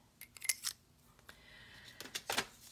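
Scissors snip paper for a spooky Halloween gift card holder, with several quick, crisp cuts in two clusters separated by a quiet pause, close and faint.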